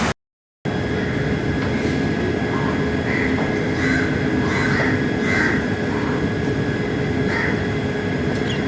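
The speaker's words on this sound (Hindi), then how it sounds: "वो है ये 12127 मुंबई छत्रपति शिवाजी महाराज टर्मिनस व पुणे के बीच में चलने वाली इंटरसिटी सुपरफास्ट एक्सप्रेस" Onboard the Mumbai–Pune Intercity Superfast Express between Mumbai CSMT and Pune, a steady close rumble of the running train fills the whole stretch after a brief silent gap at the start, with faint tonal hums and a few soft clanks.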